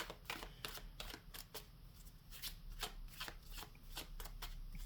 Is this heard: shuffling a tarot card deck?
yes